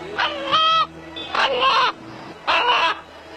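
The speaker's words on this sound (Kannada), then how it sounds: "ಒಂದು ಹುಂಜ ಇದೀಗ ಅಲ್ಲ ಅಲ್ಲ ಎನ್ನುವ ಶಬ್ದವನ್ನು ಹೊರಹಾಕುವ ಮೂಲಕ ಇಲ್ಲಿನ ಜನರನ್ನ ಭಕ್ತಿ ಪರವಶರನ್ನಾಗಿ ಮಾಡಿದೆ" A rooster at a centre in Mahaboob Nagar, Gulbarga, gives three loud drawn-out crowing calls, evenly spaced with short pauses between them, close and clear with no talking.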